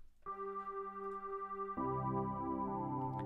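An electric piano keyboard preset with a mellow tone plays a held chord, then a second chord joins with a richer, fuller sound, clean and solo with no talking.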